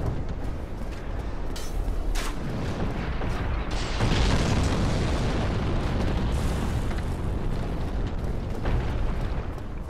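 Firebombs burst in Dark Souls Remastered as dense, roaring blasts, one big surge of fiery noise in the middle within a steady loud wash of explosive rumble throughout.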